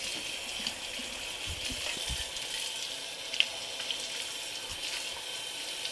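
Water runs steadily from a tap as Hurom H320 slow juicer parts are rinsed, a soft continuous splashing with a few small clinks and knocks of the parts in the sink.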